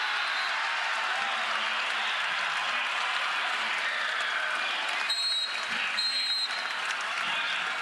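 Crowd applause fills a college volleyball arena at Rec Hall, Penn State, during a regional match, a steady loud roar of clapping and cheering with a couple of brief whistle-like squeaks.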